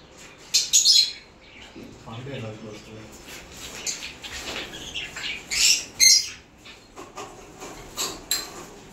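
Small birds chirp and tweet in short bursts near a dish of ORS-laced drinking water in hot weather, with a voice talking intermittently underneath.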